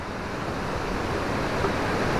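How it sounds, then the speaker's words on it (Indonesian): Munduk waterfall roars as a steady, broadband wash of falling water, continuous and fairly loud with no breaks, blended with some wind rumble. "Air terjunnya ada di sana"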